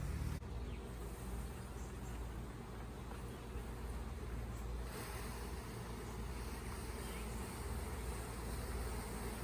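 A honey bee swarm drones in a continuous, dense buzz filling the whole stretch outdoors, steady and fairly loud with no talk over it.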